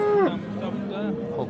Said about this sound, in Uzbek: Ho'kiz.